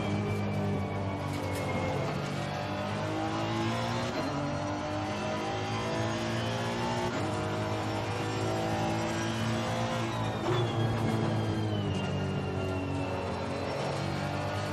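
A race car engine in a racing video game drones steadily for the whole stretch, its pitch rising and falling slightly as it shifts and accelerates, with no talking over it.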